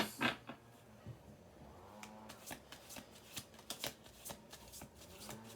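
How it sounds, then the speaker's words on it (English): Close, crisp riffling of tarot cards being shuffled, a quick series of papery snaps and flutters in an uneven rhythm, with no talking. "We're going to do 2 more shuffles."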